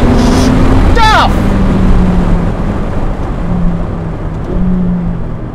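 A Ferrari F8 Spider engine drones under acceleration, steady and close, with a brief voice near the start and wind buffeting the microphone.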